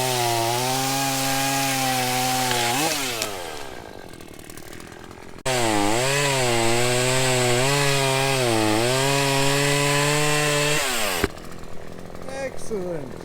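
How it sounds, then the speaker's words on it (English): A chainsaw cutting through a beech tree trunk roars steadily, its pitch dipping and rising as it bites into the wood, with brief pauses between cuts; loud and close, no talk. "Time to freaking cut some timber, Bob."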